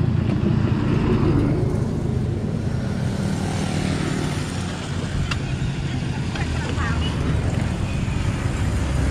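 Yamaha Mio scooter fitted with a 198cc four-valve engine on a test ride, giving a steady, loud broadband engine drone with rumbling wind noise throughout and no clear revving peaks.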